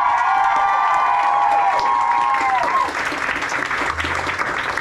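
A live concert crowd applauds and cheers with whoops as a sustained guitar chord rings out and fades, clapping continuing after the music stops.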